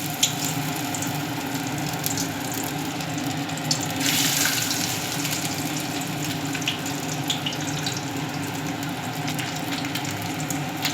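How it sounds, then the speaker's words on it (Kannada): Small fish drop one at a time into hot oil in a pan and fry with a steady, loud, close crackling hiss. "ಈ ಎಣ್ಣೆ ಕಾದಿದೆ, ಒಂದೊಂದೇ ಬಿಡ್ತಾ ಇದ್ದೀನಿ"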